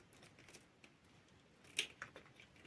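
Scissors snip through orchid roots during repotting, a couple of quiet crisp clicks near the end over a faint background hush.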